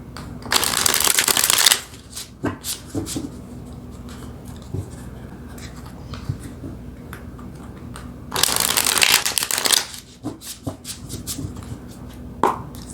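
Tarot cards are shuffled in two brisk, close riffling bursts, one at the start and one later, with quieter card handling, taps and small rustles in between and no talking.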